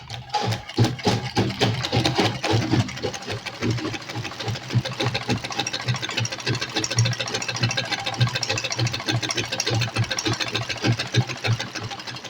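Sewing machine stitching fabric in rapid, steady mechanical chatter, close and fairly loud, running without pause and with no voice over it.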